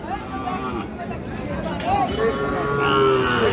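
Several young bull and heifer calves moo in short, rising bleats amid a busy outdoor murmur of people talking at a livestock market.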